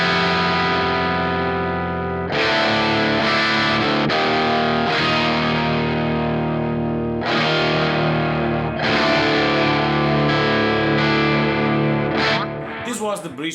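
A Giungi Path electric guitar on its bridge pickup plays loud, distorted chords with effects. Strummed hits ring out and sustain one after another, and a squealing burst comes near the end.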